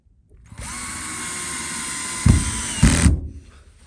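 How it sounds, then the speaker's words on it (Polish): A battered, glued-together cordless screwdriver drives a screw into timber while insulating a barn ceiling: a steady motor whine of about two and a half seconds, close and loud, with two heavy thumps near the end as the screw seats. "Ta wkrętarka już tyle przetrwała."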